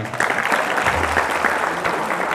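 Audience applause for Akmal at a Ramadan gathering, a dense wash of many hands clapping steadily close by for a couple of seconds, with faint voices underneath.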